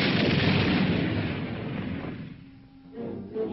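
A time bomb goes off in a room as a documentary sound effect: a loud, broad blast roars at once, then rumbles and fades over several seconds before a smaller swell.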